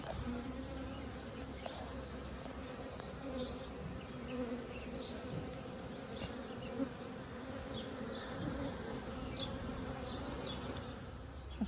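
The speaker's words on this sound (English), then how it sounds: "try to get the rest of these bees to get down here and" A steady, continuous buzz of a honeybee swarm, many bees droning together at low level, with scattered individual bees passing closer.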